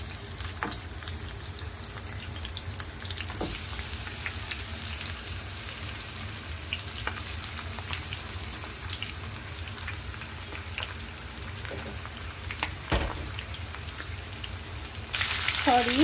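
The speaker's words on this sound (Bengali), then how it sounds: "আমি চিকেনগুলো ভেজে নিচ্ছি।" Pieces of chicken fry in a pan for a home-style chicken korma, giving a steady, moderate crackling sizzle with scattered pops and a clatter near the end.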